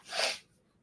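A single short sneeze, sharp and breathy, close by and fairly quiet, fading quickly into silence.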